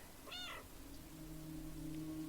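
A cat in the video game Stray lets out a single plaintive, drawn-out meow, clear and fairly close, over a steady low ambient hum with no talking.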